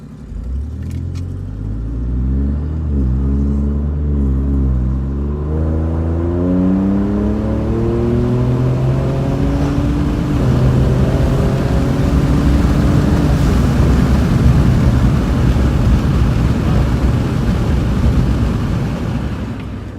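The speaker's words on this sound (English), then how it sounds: "that was a good run, pretty much up to about 70, and the exhaust is not obnoxious by any means" A 2017 Ford Raptor with a Flowmaster FlowFX exhaust accelerates hard through the gears, its engine note rising and shifting repeatedly before settling into a steady loud drone mixed with road and wind rumble, no talking.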